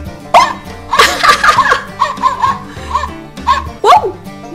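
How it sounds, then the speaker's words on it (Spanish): A small dog yips and barks playfully in a series of close, loud, excited bursts, with no talk over them. "¡Wow, wow, nos ladras!"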